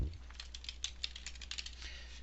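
Quick irregular clicking of keys on a computer keyboard as a username is typed, soft and close against a low steady hum.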